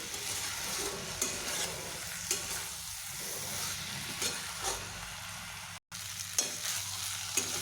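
Ridge gourd sautéing in a pan with spices and salt, a continuous close sizzle with scraping stirs from a spatula at regular intervals, no talking.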